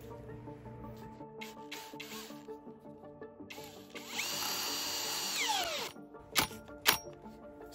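Parkside PSBSAP 20-Li hammer drill on speed 2 with an 8 amp battery driving large M10 screws, 100 to 200 millimeter long: a loud, steady whirring run of about two seconds that winds down, then two sharp clicks.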